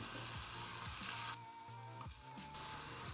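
Peppercorns fry in ghee with a steady close sizzle and crackle, briefly dipping quieter mid-way as the pan is stirred, then rising again.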